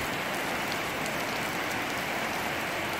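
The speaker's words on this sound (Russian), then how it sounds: "Чисто дождь пошел." Steady rain falls after a hailstorm in Anapa, a dense continuous hiss of drops on surfaces, loud and close, with no voices.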